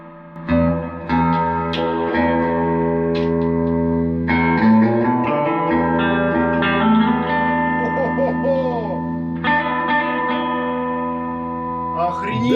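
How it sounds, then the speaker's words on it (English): Electric guitar notes and chords ring out through a vintage Gibson GA-77 RVT Vanguard amplifier, drenched in springy reverb with a splashy, echoing tail, loud and close. "reverb on the foot switch"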